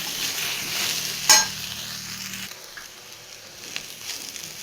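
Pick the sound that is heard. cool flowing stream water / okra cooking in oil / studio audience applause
okra cooking in oil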